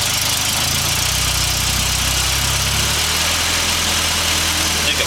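An engine running at high idle gives a steady, loud mechanical rumble with a constant low throb and broadband roar that stays even and uninterrupted throughout.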